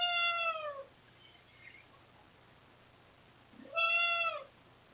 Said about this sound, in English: She is insistent on meowing every time I start to say something.